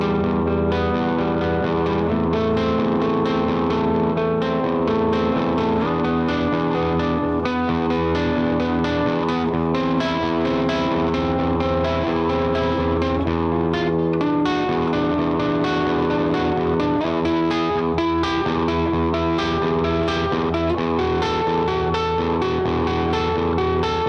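Electric guitar run through distortion, chorus and echo effects strums chords in a big final chorus, a dense, loud, sustained wall of sound moving through a chord progression, close and continuous with no talk.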